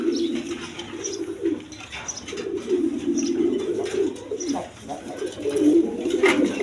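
Lahori pigeons cooing steadily in low, rolling calls, several birds overlapping continuously, with faint chirps in the background.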